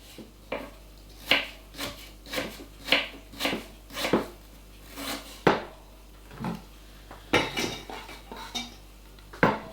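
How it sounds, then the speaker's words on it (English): Apples being cored and finely chopped with a knife on a board, repeated sharp knocks and scrapes in an uneven rhythm, close and fairly loud, with clinks of a blade against a dish and no talking. "Now I am going to core and finely chop my apples"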